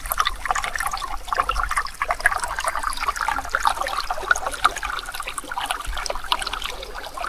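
River water rushes and trickles past rocks along a riverbank at night, a steady close wash of bubbling flow with no voices.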